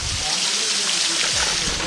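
Water from a waterfall stream at Pandav Falls in Panna pours steadily into a container, giving a continuous broadband rush and splash that stays close and even throughout.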